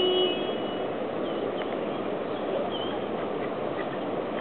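Ducks being fed quack intermittently outdoors against a constant wash of background noise. The calls are moderately close and scattered across the few seconds.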